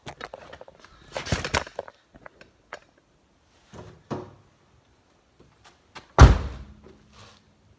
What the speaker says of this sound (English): let's try and shut the door on that and see how it goes